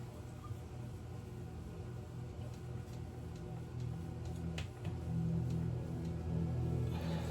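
Domestic laundry machines run as a steady, faint low hum and rumble with a soft mechanical rattle, swelling slightly in the second half, with no talking.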